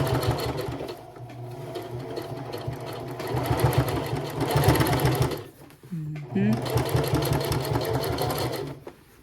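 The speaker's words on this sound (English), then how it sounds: "I'm gonna start stitching. And I'm gonna back stitch and keep stitching" A sewing machine stitches a slouchy tote bag in a loud continuous mechanical whirr, pausing briefly with a small creak before running again, close to the listener; a voice talks over the stitching.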